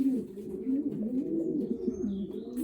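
Racing pigeons being basketed for races give soft, throaty coos in a rolling, repeated phrase, close by and clear.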